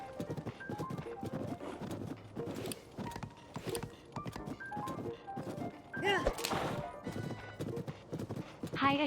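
Horse hooves clip-clop steadily in The Legend of Zelda: Tears of the Kingdom, mixed with whinnies, game music and someone talking over the top, with a louder burst of activity near the middle.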